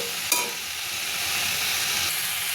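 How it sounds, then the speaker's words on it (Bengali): Previously fried potato pieces are stir-fried in a pan, giving a close, continuous sizzle with a sharp stirring scrape near the start and no talking. "এবারে এর মধ্যে আলুগুলো দিয়ে দিচ্ছি, ভেজে রাখা আলুগুলো দিয়ে দিলাম, দিয়ে ভালো করে কষবো।"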